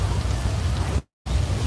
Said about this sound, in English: can we cut the rain, please?